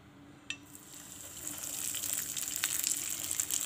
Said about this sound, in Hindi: हम इनको शैलो फ्राई करेंगे।